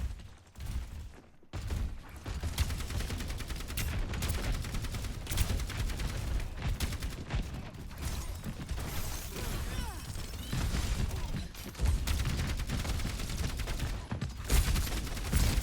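Rapid, continuous gunfire in a video game: dense, crackling volleys of shots run almost without pause, dipping briefly before resuming.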